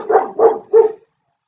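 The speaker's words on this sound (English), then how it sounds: "they are not happy with being denied their mama, so they're barking and playing" Several dogs, shut away from their owner, let out three loud, close barks in quick succession, followed by sudden silence.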